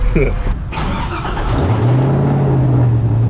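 A high-horsepower car with a 6-speed Tremec gearbox cranks, catches and settles into a steady low rumble after a short burst of nearby speech.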